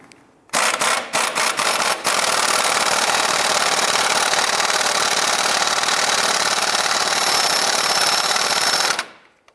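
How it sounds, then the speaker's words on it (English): Impact wrench driving an 18mm socket to loosen the outer tie rod nut on a 2011-2019 Ford Fiesta: a few short stuttering bursts, then a long, loud, steady hammering rattle close up that cuts off sharply. "Using an 18mm socket, we're going to go ahead and loosen and remove the outer tie rod and nut."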